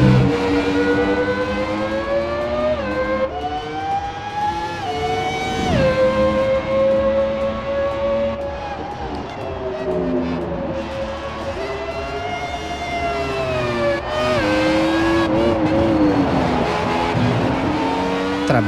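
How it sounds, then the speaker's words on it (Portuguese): A 1998 McLaren MP4/13 Formula 1 car in the F1 2017 video game screams loudly and continuously close up, its engine pitch climbing through the gears with sharp drops at each shift and brief dips while braking. "Barulhinho do motor do carro é bonito,"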